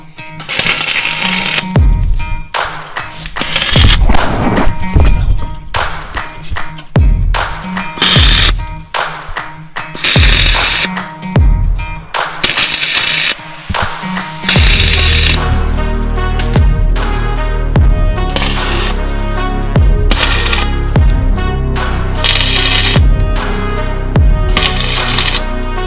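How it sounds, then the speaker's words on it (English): Welding on a trailer jack, heard as loud crackling and sputtering bursts that start and stop repeatedly, then a longer steady run of crackling near the end, with no speech. "I'm just going to weld a little bit and let it cool."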